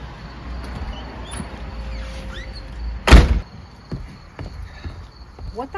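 A door slams shut once with a single loud bang midway through, set against a quiet background of steady insect chirping outdoors.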